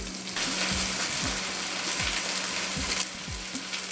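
Lemon pepper chicken pieces fry in a pan with a loud, constant sizzle close by, broken by a few low clunks and taps, no one talking.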